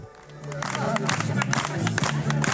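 Wedding guests clap and cheer in a crowded hall, with steady applause and scattered shouts rising over low music. The burst is loud and close and runs for the whole stretch.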